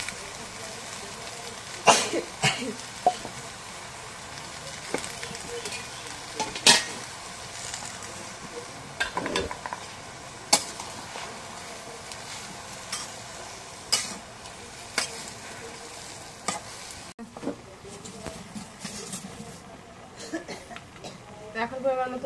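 Potatoes frying in a pan in a home kitchen, with a faint sizzle and repeated sharp scrapes and clinks of stirring, while someone talks.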